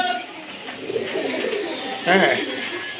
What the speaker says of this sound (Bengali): এই দেখেন খুব সুন্দর একটা কবুতর